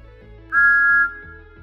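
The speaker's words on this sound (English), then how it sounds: "The close-up of Thomas's whistle is a different take." Thomas the Tank Engine's steam whistle sounds once, a bright, steady, sustained tone of about half a second standing clear above a soft rhythmic chuffing of the engine.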